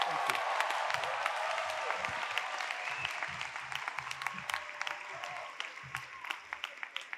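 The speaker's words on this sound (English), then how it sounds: "guests, please give a huge round of applause to our 2022 DigiPen graduates" A crowd at the 2022 DigiPen Institute of Technology commencement applauds its graduates with sustained clapping and some cheering. The applause slowly tapers off into individual claps, and voices murmur underneath.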